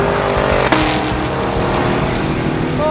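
Cadillac Escalade V accelerating hard in a drag race, a loud, sustained engine roar with a sharp transient near the start, heard from close by without talk.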